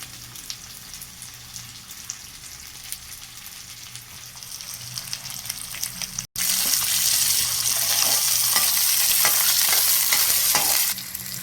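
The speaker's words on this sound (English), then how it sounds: "Roast onion till it becomes golden brown" Onion and ginger frying in a pan with oil, a moderate sizzle that jumps much louder and brighter halfway through as something new is added, with scattered stirring clinks.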